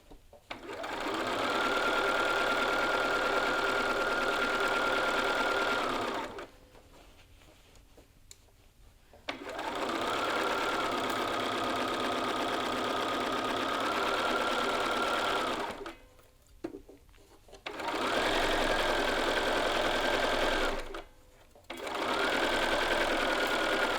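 Domestic sewing machine stitching a final seam with back tacks at a half-inch seam allowance: three long stretches of steady, fast, whirring motor hum with rapid needle ticking, separated by brief pauses, close and even.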